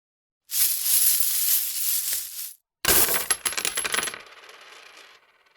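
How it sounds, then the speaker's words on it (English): A pouch of gold coins slams onto a wooden stage floor, then the coins jingle and scatter with a bright metallic clatter that settles into a faint shimmering rattle; loud and close with no talking. "The jingling of coins preceded a scatter of ryo"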